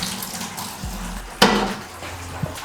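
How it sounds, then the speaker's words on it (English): Water sloshes and splashes as it is dumped from a fish tub into a bucket, with one louder splash midway among lighter pouring sounds. "Dump the water into the bucket, net the fish into the tub"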